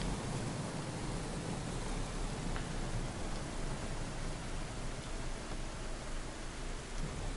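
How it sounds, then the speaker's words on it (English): Dense, steady downpour in the video game DayZ hissing continuously, with a low rumble underneath and no voices. "If it wasn't raining so hard"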